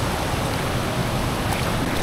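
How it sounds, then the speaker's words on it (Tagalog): Strong surf roars continuously, a dense wash of crashing water close by with wind mixed in, no voices. "Kasi malakas yung alon dito mga nito."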